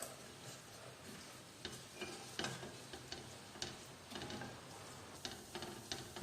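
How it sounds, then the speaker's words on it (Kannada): Fennel seeds, cinnamon, cloves and cardamom crackle in hot oil for channa masala gravy, a quiet continuous sizzle dotted with small pops and ticks. "ಮೊದಲನೇದಾಗಿ ಸೋಂಪುಕಾಳು, ಚಕ್ಕೆ, ಲವಂಗ, ಏಲಕ್ಕಿಕಾಯಿ ಹಾಕೊಂಡ್ಬಿಡೋಣ."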